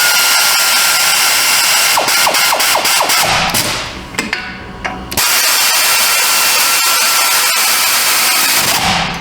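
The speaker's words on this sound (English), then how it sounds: "We'll fire up the torque wrench." Pneumatic torque wrench set to 74 pound-feet tightening wheel nuts, loud and close, with rapid hammering rattles, a short hissing lull mid-way, then a sustained roaring air-tool burst.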